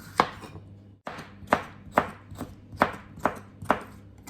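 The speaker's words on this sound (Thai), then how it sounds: "จากนั้นก็หั่นแคปซิกัมเนาะ" A knife chops through crisp bell pepper (capsicum) on a cutting board, about eight sharp thuds at a steady, unhurried rhythm.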